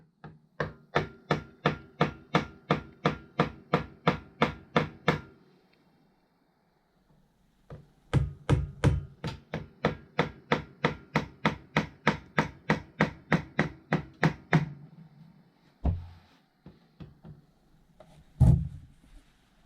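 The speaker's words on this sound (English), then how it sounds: "I'm going to get my plastic hammer and just give it some tap." Rapid series of sharp taps with a hard plastic hammer on a 1973 Kawasaki G5 motorcycle engine during crank seal replacement, two long regular bursts separated by a short pause, then a few scattered knocks.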